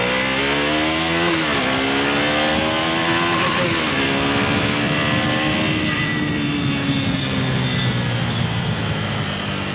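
Motorcycle exhaust on a test ride, captured with a small action-camera microphone: a loud, continuous engine drone with rising and falling revs, heavy wind rush and road noise throughout.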